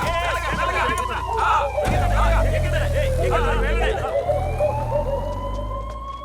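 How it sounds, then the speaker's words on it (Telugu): An ambulance siren wails in a gliding, rising and falling tone as it approaches the scene of a road accident, heard loudly under excited voices and crowd chatter. "అదిగోండి, అంబులెన్స్ వస్తుంది, అంబులెన్స్ వస్తుంది."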